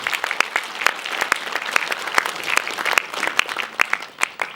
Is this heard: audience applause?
yes